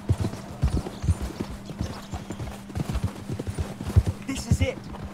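Horses' hooves clip-clop in the video game Red Dead Redemption 2, a steady, close, rhythmic series of hoof strikes running throughout, with a faint voice speaking underneath.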